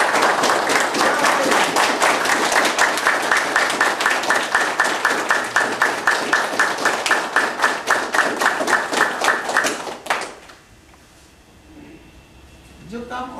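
An audience claps hands together in a fast, loud, even rhythm for about ten seconds, then stops abruptly, leaving near silence and a brief voice.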